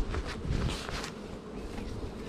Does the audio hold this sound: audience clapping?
no